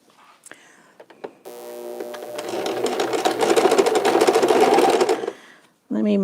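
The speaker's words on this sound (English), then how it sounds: "we're just going to sew this one together on the bottom" Home sewing machine stitching the bottom seam of a fabric face mask, a loud, steady mechanical whir running for about four seconds after brief handling noises, with a short burst of motor sound at the end.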